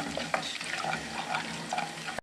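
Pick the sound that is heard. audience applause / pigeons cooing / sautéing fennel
sautéing fennel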